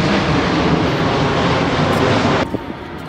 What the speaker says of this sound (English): Got an airplane.